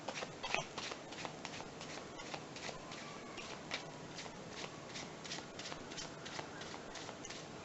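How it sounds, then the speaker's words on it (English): Overhand shuffle of a deck of cards, quiet rapid papery slaps and flutters repeating in quick bursts, close and soft throughout. "I'm going to perform another overhand shuffle."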